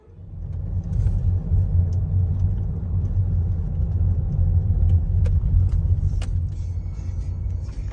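A car engine rumbles steadily at close range as the vehicle drives slowly and pulls in to park in shade, a low continuous drone with faint clicks on top.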